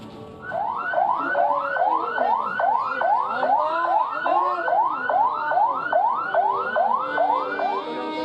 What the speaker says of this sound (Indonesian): ketika ambulans yang membawa jasadnya tiba di rumah duka